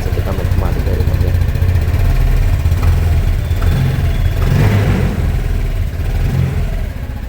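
A scooter engine revs through its exhaust at a motorcycle walk-around, giving a steady, loud, rumbling drone with a couple of swells in throttle, while people talk over it.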